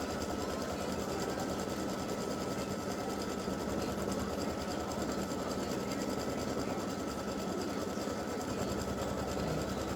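An embroidery machine stitches freestanding lace Christmas tree earrings with a steady, close mechanical whir and rapid needle chatter that runs without pause for the whole stretch, no voices.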